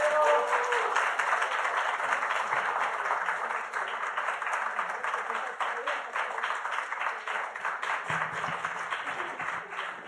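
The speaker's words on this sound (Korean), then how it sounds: "우리 나오실 때 박수로 환영해서 모셨으면 좋겠습니다." A church congregation gives sustained, rhythmic clapping to welcome a guest speaker at a Sunday service. The applause stays loud and even before thinning slightly toward the end.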